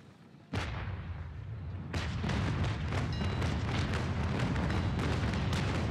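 Heavy naval cannon fire in the age-of-sail battle game Naval Action, a sharp opening boom followed by a rolling barrage of overlapping broadside shots, loud and continuous with no talk.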